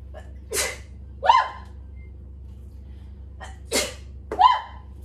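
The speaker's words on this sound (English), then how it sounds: "That's how I know it's seasoned, because I'm sneezing." Two pairs of close, sharp sneezes in a home kitchen from seasoning while cooking, each a quick inhale followed by an explosive sneeze, separated by quiet.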